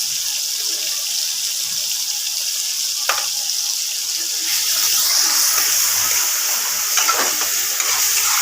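Water poured into a pan of frying ground cumin and garam masala for a thin Bengali chicken curry, giving a steady, close hiss and sizzle that swells louder partway through, with faint clinks and no talking.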